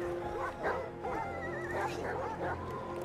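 Dogs bark and whimper in Valiant Hearts, a burst of repeated yips and woofs with a whining edge, fairly close and lively over a soft background.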